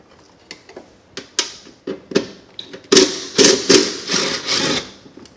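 A ratchet wrench working a 10mm bolt free in a vehicle engine bay during an in-cab tuner fitting, making a run of close metallic clicks and clacks that speed into quick ratcheting bursts.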